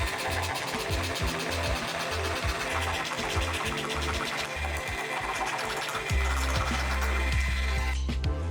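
A jigsaw cuts notches into an MDF shelf with a loud, continuous buzzing rattle of the reciprocating blade. Its pitch shifts slightly partway through the cut before the saw winds down at the end.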